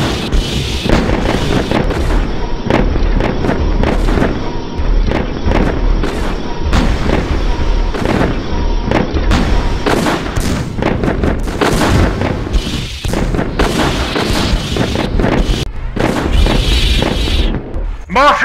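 Gunfire and artillery fire in the War of the Worlds video game, a loud barrage of rapid shots and booming blasts with voiced radio callouts mixed in throughout.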